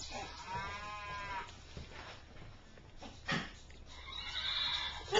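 Baby's toy horse neighing in a home high chair, a short whinny near the start and another toward the end, faint and close, with clatter and shuffling between.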